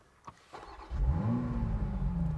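A 2020 Toyota Supra engine cranks and catches, then settles into a steady, rumbling idle with a slight rise in pitch, close and fairly loud.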